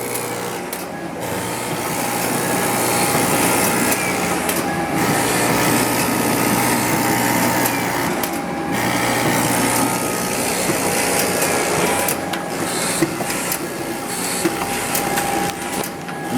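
A Duplo DC 645 heavy-duty slitter cutter creaser runs continuously, a loud mechanical whir and rattle of feeder, knives and slitters with rhythmic sheet-feeding clatter and short gaps between passes.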